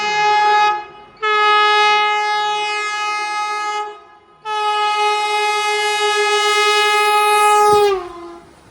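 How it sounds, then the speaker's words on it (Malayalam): A Vande Bharat train passes and overtakes near Kalwa Road station, sounding three loud, long horn blasts with brief gaps between them, the last one bending downward as it fades. "ഇവിടെ നിന്നാണ് വന്ദേ ഭാരത് ഓവർടേക്ക് ചെയ്യുന്നത്"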